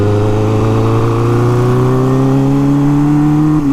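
A 1981 Honda CB900F motorcycle engine accelerates hard and continuously, its rising whine climbing steadily in pitch through the gear, loud and close with no voices over it.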